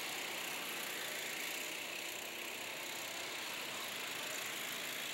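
A go-kart engine races during a fan kart championship heat, a steady, dense buzzing drone that holds at a constant level for the whole stretch, with no voices.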